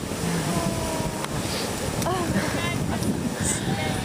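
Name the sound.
ocean waves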